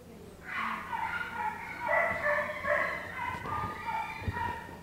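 A medium-sized dog at an animal shelter yips and whines in a run of high, bark-like cries lasting several seconds, fairly close and alone with no talk over it.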